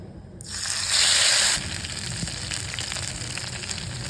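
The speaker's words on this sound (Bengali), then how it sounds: "এখন হচ্ছে ভাজার পালা তো প্যান একটু তেল গরম করে নিলাম" Pumpkin leaves coated in a dal paste frying in hot oil in a pan: a sizzle starts sharply, swells into a loud crackling burst as a leaf goes in, then settles into a steady close frying hiss, with no talking.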